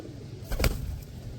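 A white dove gives a single soft, low coo close by, heard over a steady background hiss.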